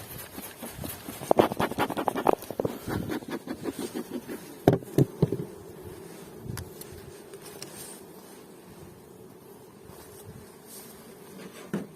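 Honey bees buzzing and flying around an open hive on fresh wax foundation, a steady swarm drone with close passing buzzes and some scraping and knocking of frames in the first few seconds, then a calmer continuous hum.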